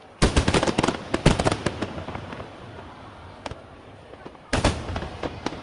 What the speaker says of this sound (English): like this fireworks scene where the booms are correctly localized behind and to the left of the camera